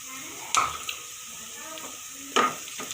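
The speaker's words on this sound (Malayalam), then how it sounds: "നമുക്ക് ഇളക്കാം" Onions and chopped green chillies frying in a pan for a lady finger masala curry, a low steady sizzle punctuated by two sharp scraping stirs, close by, with a faint voice in the background.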